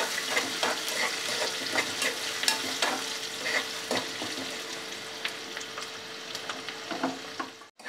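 Onions and green chillies frying in a pan, a steady crackling sizzle punctuated by frequent stirring scrapes, close and fairly loud throughout.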